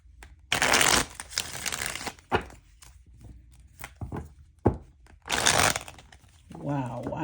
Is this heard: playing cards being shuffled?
yes